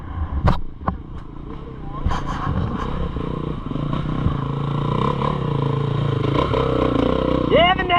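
A Beta 300 enduro motorcycle runs nearby on a wooded trail ride, its engine droning and rising and falling with clattering and scraping over rough ground, with brief voices over it.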